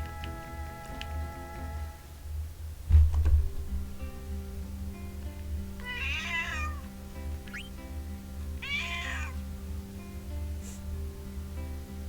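A pet cat meows twice in the middle of the stretch, each call clear and fairly close, set against a steady low hum and a short thump near the start, with no talking.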